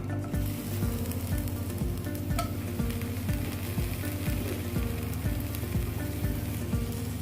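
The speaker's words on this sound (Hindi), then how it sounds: "सबसे पहले हम कुकिंग ऑयल डालेंगे, प्याज डालेंगे" Onion frying in cooking oil for chicken chow mein gives a soft, steady sizzle. A loud, regular low thumping pattern, like a machine or a beat, runs all the way through it, and there is no speech.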